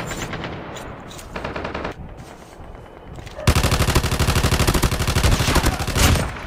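Rapid automatic gunfire in Call of Duty Warzone on the Alcatraz map, with scattered shots early and then a sustained loud burst of fast, evenly spaced rounds filling the second half, under a player's occasional talk.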